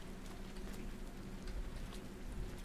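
Steady rain falling in the video game Road 96, a dense, even hiss of drops that holds at a constant level with a low rumble beneath, with no talking.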